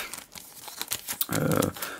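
Pokémon XY Rising Fist booster pack foil torn open by hand without scissors, giving a short burst of crinkling and ripping after a few faint rustles, close and fairly loud.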